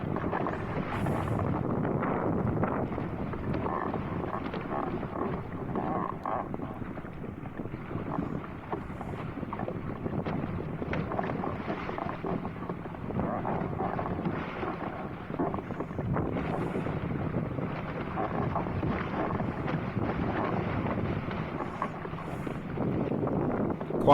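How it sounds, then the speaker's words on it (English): Strong wind buffets a proa sailboat at sea as waves slap against its crossbeam, a rough, continuous rush of wind and water with irregular thumps throughout. "Quite a few waves hitting the crossbeam actually recently."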